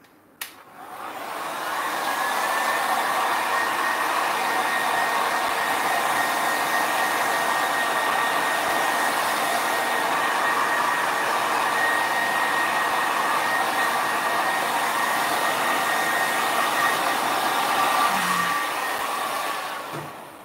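A hair dryer blows steadily on alcohol ink over Yupo paper, a loud continuous whooshing hum that starts after a brief click and runs unbroken for about eighteen seconds before cutting off, with no talking.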